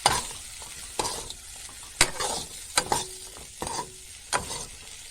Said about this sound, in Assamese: আৰু এতিয়া মিক্স কৰি লোৱা আলু বুট এইখিনি দি দিম।